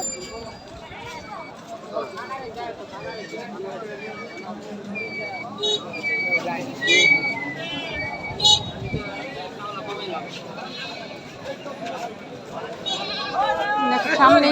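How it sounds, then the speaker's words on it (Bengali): Sheep bleat now and then amid a busy outdoor crowd at a cattle and goat market, with many voices talking and hooves clopping nearby. "ভেড়া ভেড়া ভেড়া উঠছে"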